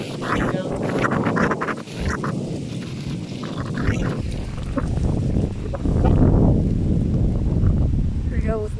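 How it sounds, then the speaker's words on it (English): Strong wind roars during storm chasing under a 40 mph wind advisory, a loud, continuous broadband rush buffeting the microphone that swells toward the end, while a person talks over it. "Here we go with massive wind."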